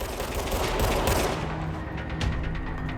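Service Weapon gunfire in the game Control: dense, continuous rapid fire and crackling impacts blending into a steady, loud wash of noise with no clear gaps between shots.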